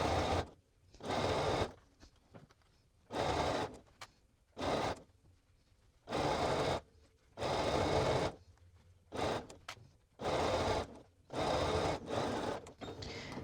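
A sewing machine stitches a neckband seam on a knit top, running in repeated short bursts of a second or two with brief pauses between them, close and steady, with no talking.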